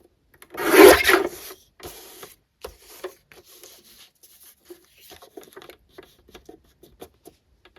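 An old paper calendar is trimmed, starting with one loud close scraping rasp of paper followed by sparse, fainter scratches and light rustles.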